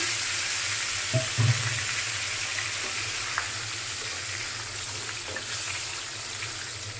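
Large potato pieces frying in oil for chicken fry biryani give a loud, continuous close sizzle, with a few soft knocks and stirring sounds near the start; no one speaks.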